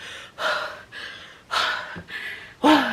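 A voice imitates heavy, winded breathing from a Stair-Master workout: five loud, ragged gasps and exhales in a quick, uneven rhythm, close up with no other sound.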